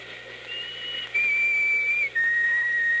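A shrill, steady whistle sounds in a radio drama, held for about two seconds with one brief break, over faint background hiss.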